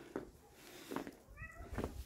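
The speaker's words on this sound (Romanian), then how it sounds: "Asta e pisica vecinilor, care vrea să intre în casă." A neighbours' cat meows repeatedly outside a house on a snowy winter day, three or four plaintive calls spaced about a second apart, fairly close and moderately loud against light outdoor background noise.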